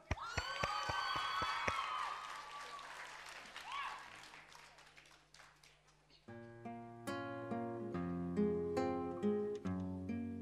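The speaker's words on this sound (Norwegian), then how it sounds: "Så, gi en stor applaus da." An audience at a school talent show finale applauds loudly for about six seconds, dense close clapping with some cheering, before guitar and a singing voice begin.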